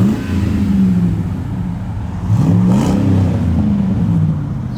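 Chevy Silverado SS pickup with a 6.0L V8 and Flow FX true dual exhaust, with 307,000 miles, revving loudly and close, with a deep steady drone that rises in pitch and falls back twice.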